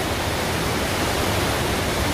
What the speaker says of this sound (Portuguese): Muita água, viu?